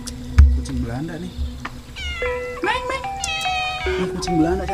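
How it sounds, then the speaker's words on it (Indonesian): Persian cat meowing in a Sundanese village, several rising and falling meows scattered across the moment, with people talking around it and a brief knock near the start. "Ini kucing Belanda cantik banget."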